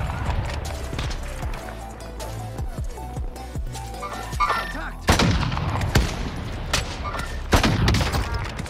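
Gunfire in a Warzone fight, with scattered sharp shots giving way to louder, denser bursts of rapid fire, some sounding near and some distant, while players talk at times.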